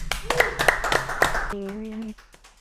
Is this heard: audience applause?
yes